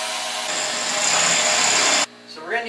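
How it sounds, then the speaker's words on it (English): A power drill bores a hole into the housing of a brand new laser engraver, a steady high whine lasting about two seconds before cutting off abruptly, followed by a brief rising mechanical sound. "So we're just gonna drill a hole in the brand new laser."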